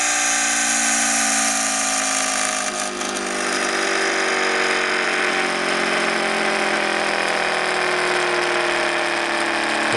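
A twin rotor ORBO motor winds down after its power is cut, a close, steady whir whose pitched tones slowly drop while the hum continues loudly across the whole stretch, with no voices.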